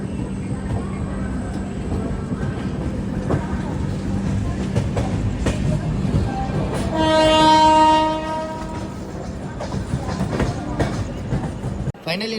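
A Mumbai local train runs on the Western Railway line with a continuous rail rumble and clatter, and a long horn blast sounds midway before the running noise carries on.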